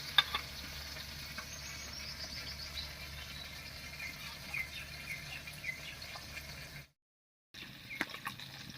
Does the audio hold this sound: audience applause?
no